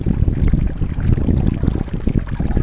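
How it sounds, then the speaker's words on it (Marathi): Water gurgling and splashing over rocks near Dhoom dam by a lake in Maharashtra, a loud, close, continuous burbling rush. "जो पाण्याचा खळखळाटचा जो आवाज येतोय ना एकदम बेस्ट."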